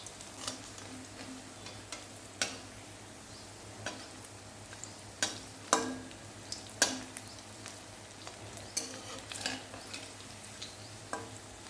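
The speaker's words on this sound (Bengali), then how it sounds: "মিডিয়াম আঁচে রেখে এইভাবে আস্তে আস্তে বড়াগুলোকে ভেজে নিতে হবে।" Elephant-foot yam fritters fry slowly in hot oil over medium heat, making a soft, quiet bed of sizzle dotted with sharp, scattered crackles and pops.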